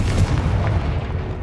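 Confringo blasting spell explosions in the Hogwarts Legacy video game, loud booming blasts with dense rumbling low end, one following another without pause and no talking.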